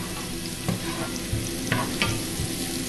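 Garlic fries for nasi goreng in a pan with a steady close sizzle, broken by several soft scraping knocks of stirring, and no voices.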